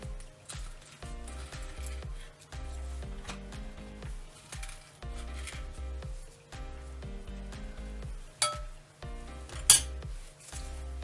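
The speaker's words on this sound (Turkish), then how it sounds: "Şimdi bunları şekilleri güzel olsun diye normal cupcake kalıplarına aktaracağım." Metal spoons scrape and tap while transferring chocolate bar batter into cupcake molds, with soft clinks and scoops in a quiet kitchen and a sharper clatter near the end.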